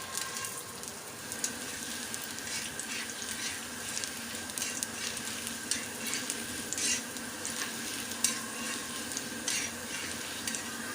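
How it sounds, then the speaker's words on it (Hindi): Potato-stuffed paratha cooking on a hot pan over raised heat, a soft continuous sizzle with faint crackles and light patter throughout, fairly quiet and without any voices. "थोड़ी आंच तेज़ करके इसको सेक लेते हैं।"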